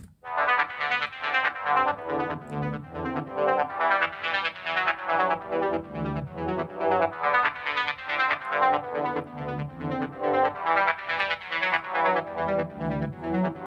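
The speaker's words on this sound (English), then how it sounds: "I started with this brass type of sound in Serum" A brass-style lead synth preset, LD Brass Tex in Serum, plays a rhythmic pattern of bright, buzzy stabs and held notes, loud and alone with no voices.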